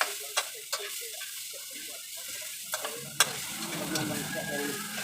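Long beans brown in a hot pan with a steady low sizzle, punctuated by a few sharp clicks and scrapes of a utensil stirring; the frying grows denser and louder in the second half.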